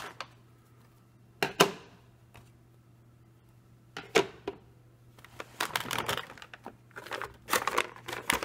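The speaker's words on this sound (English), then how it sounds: "Let's tape off here." Adhesive tape torn off in sharp ripping bursts and pressed down onto a surface, with several separate crinkly tears spaced apart and a busier cluster of crackling handling toward the end, close and fairly loud.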